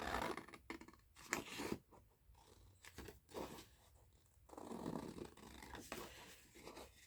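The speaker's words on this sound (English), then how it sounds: "But I'm gonna cut it slim." Scissors cutting a paper journal card, with several short, crisp snips and rustling paper scrapes, close and faint.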